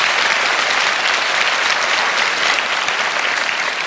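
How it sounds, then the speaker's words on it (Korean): Steady, dense applause from a lecture-hall audience at a Korean talk event, loud and even from start to finish with no pauses or voices on top. "다시 한번 박수 부탁드립니다"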